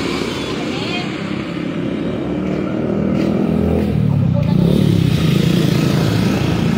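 A motorized tricycle with a sidecar in Taytay drives past, its small engine clattering and buzzing, rising and growing louder as it nears.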